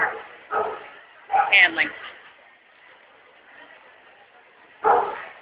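A large, stout young dog, about 12 to 18 months old, lets out several short barks and yips in separate bursts, moderately loud and close, with quiet gaps between them and a brief voice nearby.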